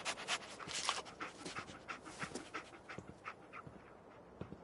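A dog companion in the video game Fallout 4 pants quietly in quick, rhythmic breaths with faint whimpering, close but low in level, with no talk over it.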